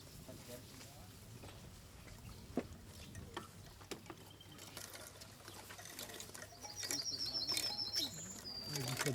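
Chaffinch song outdoors at a bird song contest, with faint chirps over background noise and a brighter burst of song near the end while people talk.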